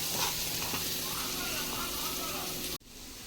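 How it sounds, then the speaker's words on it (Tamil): Potato pieces sautéing in oil in a pan for a Tamil spinach stir-fry give off a steady, close, broadband hiss and sizzle that cuts off sharply near the end. "உருளைக்கிழங்கு கொஞ்சம் அந்த எண்ணெயில் வதக்கிக்குங்க"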